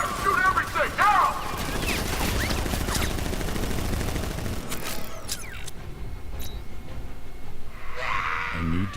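Guards opening fire in Batman Arkham Knight: rapid bursts of gunfire and mechanical clatter fill the scene, loud at first then thinning out, with voices talking over the shooting.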